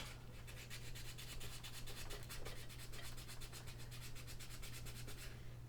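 Quiet, rhythmic sanding strokes rub paint off glass at a quick, even pace over a low background hum.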